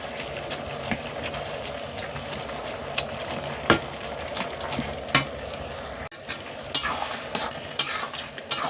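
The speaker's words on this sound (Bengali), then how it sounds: "আমি এরকম করে চেপে চেপে একটু ঘেঁটে দেবো" Ash gourd vegetable cooked with a little sugar is pressed and stirred in a pan, with a low simmering sizzle under repeated scraping and tapping of a spatula against the pan, the strokes growing sharper and louder toward the end; no talking.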